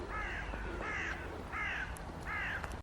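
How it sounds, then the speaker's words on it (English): Crows caw repeatedly in a sunny field beside the Bristol cycle track, four evenly spaced harsh calls ringing out fairly close over a steady outdoor background. "There are so many birds in this field today."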